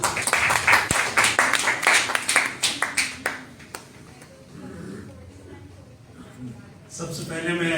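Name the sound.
audience applause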